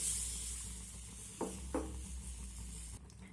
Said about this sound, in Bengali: জলটা দিয়ে এইভাবে আমি অনবরত নাড়াচাড়া করে নেব।